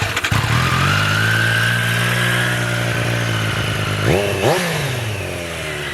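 A 765 cc, 121 horsepower motorcycle with titanium headers and an aftermarket exhaust, loud and close, holding a steady rev before two sharp throttle blips that rise and drop back to a rumbling idle.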